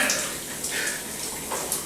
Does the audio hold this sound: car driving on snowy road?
no